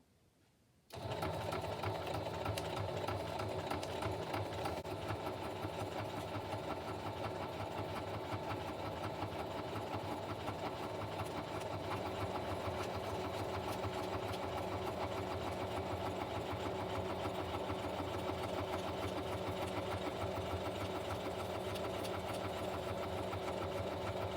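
A sewing machine runs a zigzag stitch through crunchy packaging material for a journal cover, one steady, continuous mechanical whir lasting the whole stretch after a brief quiet start, loud and close with no talk.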